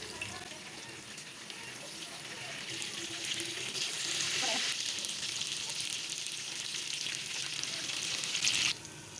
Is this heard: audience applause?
no